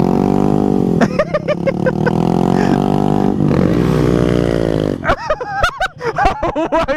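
A dirt bike engine fitted with a Maxis tire revs loud and close, its harmonic whine climbing through sustained throttle, then breaking into sharp, choppy blips toward the end, with voices talking over it.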